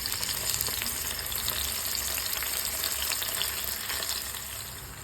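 Bombay duck fish frying in hot oil in a pan, a steady close sizzle with crackling spatter that holds loud throughout and eases slightly near the end.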